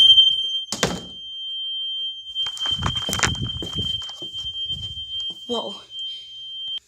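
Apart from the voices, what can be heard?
new fire alarm being tested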